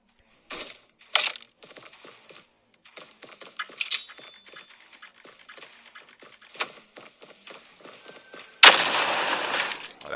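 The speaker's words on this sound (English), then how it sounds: "that was a good grenade right there." Gunfire and a grenade blast in a battle-royale shooter game with a Jak-12 shotgun, a run of quick clicky shots and metallic ticks ending in a loud, broad explosion near the end.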